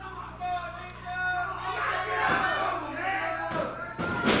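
A wrestling arena crowd at a 1998 Ohio Valley Wrestling show jeers and shouts in disapproval, a swelling mass of voices with a few sharp thuds near the end.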